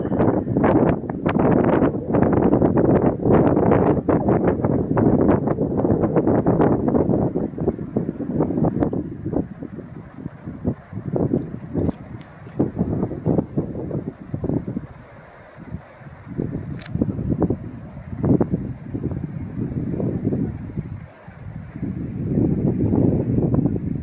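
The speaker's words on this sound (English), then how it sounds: "The wind's shifting different directions right now." Strong outdoor wind gusts buffeting the microphone near a lake with nearby wildfires, loud roaring bursts that ease in the middle and surge again toward the end, with no talking.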